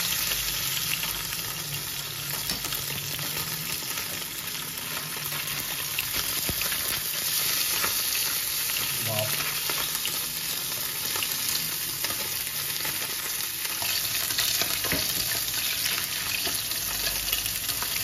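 Sea bream sizzles steadily in a hot frying pan as it cooks skin side and is flipped, a continuous close crackle with occasional scrapes and spatters, no talking.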